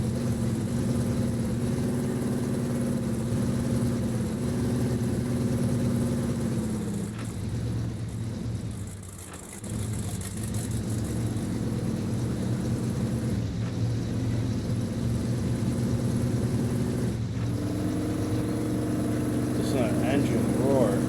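A Chevy K1500 single cab engine roars in the video game SnowRunner, a steady low-pitched droning hum with pitch shifts and a brief dip, while a person talks over it.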